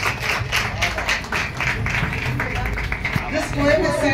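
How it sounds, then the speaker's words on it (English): Audience applause at a Women's Day poetry gathering, a modest patter of claps running throughout, mixed with voices talking over it. "a big round of applause for Sonia Ji"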